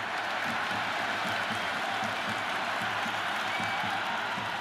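A cricket stadium crowd at an IPL match between Mumbai Indians and Kolkata Knight Riders roars and applauds in a steady, dense wash of noise, distant and unbroken.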